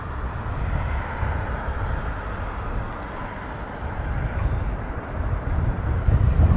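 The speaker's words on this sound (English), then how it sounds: "And there goes your Qatar A380." A Qatar Airways Airbus A380 at Heathrow Airport makes a low, distant rumble of jet engines that swells slightly toward the end, mixed with wind buffeting the microphone.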